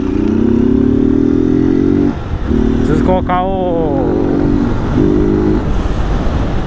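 A Honda 160 motorcycle on its stock exhaust runs at close range, humming steadily with brief dips in engine note, while someone talks over it.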